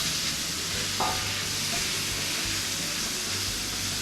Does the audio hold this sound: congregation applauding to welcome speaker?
no